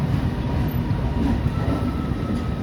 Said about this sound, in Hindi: यहाँ से शायद कोई लोकल ट्रेन भी गुजर रही है।